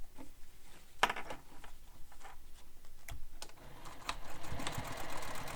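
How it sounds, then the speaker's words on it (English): A sewing machine stitches a second row along a sling bag, quiet close-up whirring in short uneven bursts mixed with clicks and ticks from handling the fabric. "I'm just sewing a second row."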